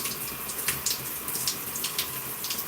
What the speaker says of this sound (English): So I'm going to take some water